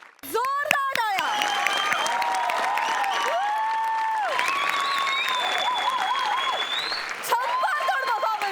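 A studio audience gives loud, sustained applause for a performance on a Marathi TV show, a dense wash of clapping heard under tonal music and voices that carries on without a break.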